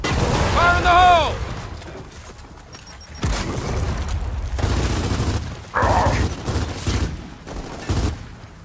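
A frag grenade blast in Gears of War 4 lands among heavy gunfire and booming impacts, with bursts of shooting and explosions rolling through the scene while voices shout over the combat.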